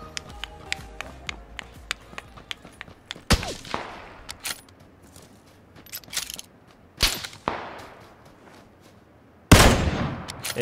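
First-person shooter gunfire crackles in sharp, separated bursts, three or four loud shots and volleys standing out over light taps and footsteps, with brief pauses between them.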